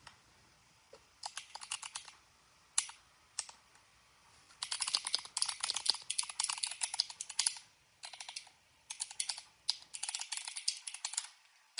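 Bursts of typing on a computer keyboard, close and fairly quiet, with rapid clicky keystrokes coming in irregular runs separated by short pauses.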